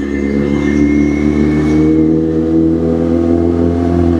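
A motorcycle engine drones loud and close throughout, holding a steady, strong tone as the bike accelerates along the road, with no voices.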